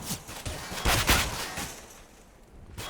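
Machine gun fire in Counter-Strike on the Cache map, a Mongolz vs. TyLoo pro match: several sharp, rattling bursts at mid-distance, the loudest cluster near the middle, then fading to a low hum before one last short burst.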